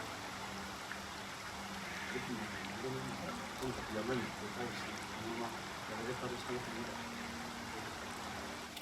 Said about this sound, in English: The waterfall. This must be the place.